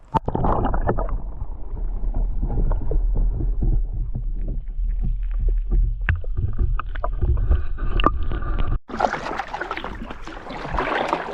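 Paddle strokes push a small boat across water on a hot, sunny camping day, with steady close splashing and dripping throughout, then a louder splashy burst near the end.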